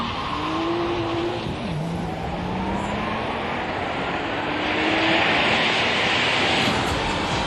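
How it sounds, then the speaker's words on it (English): An Elica electric car and a Porsche 911 Turbo accelerating side by side, a loud, steady roar with rising whining engine tones sweeping upward, close and continuous throughout. "You can take a look the acceleration between Elica and Porsche 911 Turbo"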